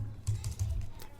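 Light, quick keystrokes on a computer keyboard tap out a short burst of several clicks, close and fairly quiet, with no talking.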